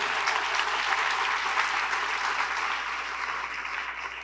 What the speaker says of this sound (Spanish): Dele un aplauso al Señor, dele un aplauso